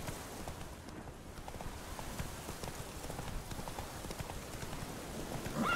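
Hoofbeats of Roach, Geralt's horse in The Witcher 3, clip-clop in a quick, steady rhythm over faint background noise, with no speech.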